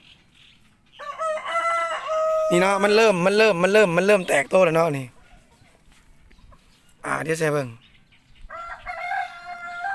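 A rooster crows loudly and at length at close range, with shorter crowing or clucking bursts from chickens suffering a respiratory cold; someone talks in between.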